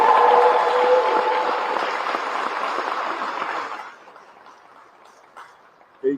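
An audience applauds at a gathering of Georgia Democrats calling for a special legislative session on gun violence. The dense, steady clapping lasts about four seconds, then drops away to a quiet room with a faint voice and one brief knock near the end.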